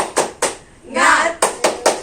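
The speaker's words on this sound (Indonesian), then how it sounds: "Tepuk semangat" A group performs a rhythmic spirit clap in a classroom-style session, with sharp clustered claps in a short pattern, a pause filled by a shouted call, then more claps in quick succession, close and loud.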